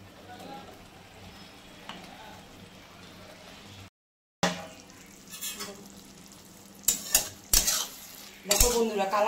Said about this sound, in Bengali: এখন আমি মোচাটা ছেড়ে দেব।